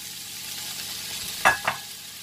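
Quartered tomatoes drop into a hot frying pan for a tomato sauce, giving a short pair of close sizzling thumps over a steady background frying hiss.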